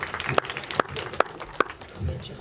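Several sharp, evenly spaced single claps, about four in a steady rhythm, ring out in a room as an audience greets a volunteer at a business talk on high-performance teams. A quiet murmur of voices runs underneath.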